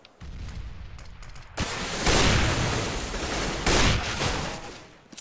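A tense competitive shooter match on the Cache map is filled with dense rapid gunfire, bursts of shots overlapping loudly and continuously, with heavier volleys in the middle and toward the end and no voice over it.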